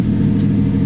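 An Audi R8 with a 4.2 litre naturally aspirated V8 and Milltek exhaust gives a brief, loud, deep rumble as it fires up, close by and alone.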